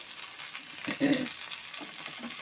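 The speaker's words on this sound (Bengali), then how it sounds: "আমি শুধু কুলেখাড়া শাকটা ভেজে দেখাবো" Steady soft sizzle of kulekhara greens frying in a pan with salt and turmeric, a continuous hiss with a slightly louder crackle midway and faint stirring.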